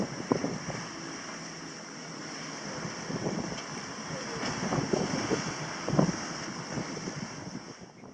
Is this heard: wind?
yes